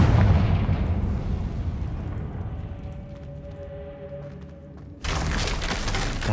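The Confringo blasting spell from Hogwarts Legacy sets off a booming explosion that rumbles and fades over several seconds, followed by a sudden loud burst of noise near the end.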